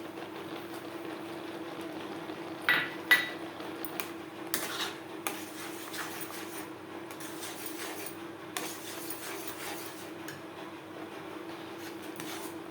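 A spoon stirs a semolina mixture in a pan over a low gas flame while making semolina gulab jamun. Faint, scattered metallic clinks and scrapes, with a couple of louder knocks early on, sit over a steady low kitchen hum.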